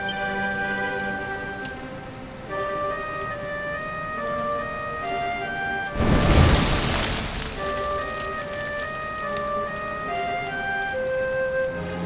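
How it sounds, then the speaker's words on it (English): Steady rain falls in the Dragon Quest XI video game under a melodic musical score, with a brief loud rumbling burst near the middle before the rain and music continue. "Looks like the rain's dying down."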